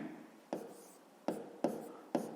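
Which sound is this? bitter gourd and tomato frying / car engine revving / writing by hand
writing by hand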